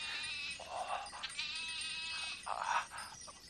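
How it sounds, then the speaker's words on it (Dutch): Young goats or lambs bleating, several high wavering cries in a row, fairly faint and somewhat distant, with no talk over them. "Allemaal jonge geitjes."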